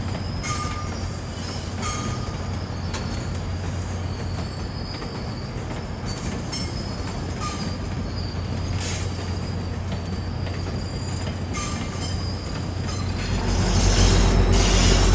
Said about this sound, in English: there's an inbound train from the airport